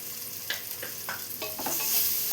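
A spoon scrapes and stirs a green gram curry base with turmeric and salt in a hot pan, several distinct strokes over a steady sizzle, close and fairly loud with no voices.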